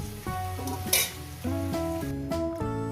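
Deep-fried potatoes browned in hot oil are lifted out while the oil keeps up a steady crackling sizzle, with light clinks and scrapes of a metal utensil against the pan nearby.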